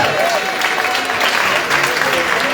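Loud, dense applause from an arts festival launch crowd honouring the cast of The Wind That Shakes the Barley, a continuous wash of clapping filling the space close to the microphone.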